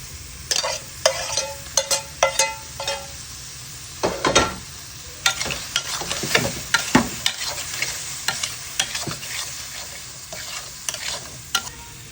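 Potatoes tossed into a pan of fried spice paste while cooking a chapila fish curry, giving a close, sizzling fry broken by repeated scraping stirs and clanks of a spoon against the pan, with no talking.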